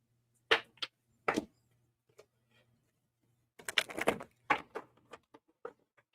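A deck of tarot cards is shuffled in quick, crisp riffles: two short bursts, a pause, then a longer flurry of shuffling followed by a few light taps as the cards settle, all close by in a quiet room.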